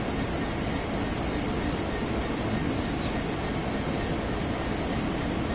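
A passenger train runs in the Train Sim World 2 video game on PS5, making a steady, continuous low rumble of wheels and engine that holds evenly throughout with no talk over it.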